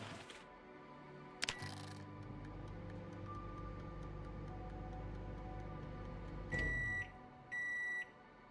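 Microwave in the survival game Project Zomboid sounding a few short electronic beeps near the end, after a steady low hum and a brief click, with soft ticking throughout.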